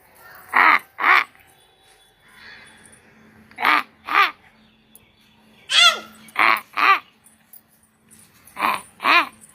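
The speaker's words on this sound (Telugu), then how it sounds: "కాకా కాకా అంటుంది కాకి." A crow caws in loud, close pairs of harsh calls, several double caws separated by pauses, with faint background noise between them.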